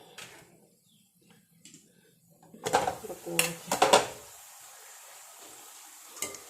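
A cooking pot is tilted and set down in a home kitchen, giving a few close metallic clatters and scrapes in a short burst, then quiet with one last faint knock.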